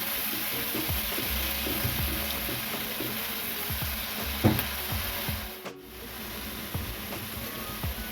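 Onion with turmeric fries in a pan, giving a steady close sizzle with soft scraping and rubbing of a spatula, a brief louder scrape midway and no speech.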